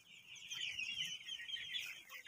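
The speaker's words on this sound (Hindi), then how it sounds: "हमें बहुत अच्छा लगा ये मुर्गी देखकर" Hens clucking close by, a continuous busy run of chattering clucks at moderate volume over quiet low background noise, with no talking.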